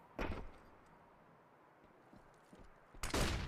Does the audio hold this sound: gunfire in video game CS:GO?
yes